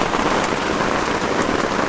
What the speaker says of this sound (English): I am finally getting a heavy rain.